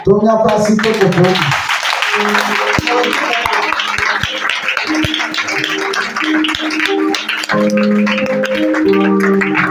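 A church congregation applauds and calls out acclamations, a dense, loud wash of clapping and raised voices mixed with sustained sung or instrumental tones throughout.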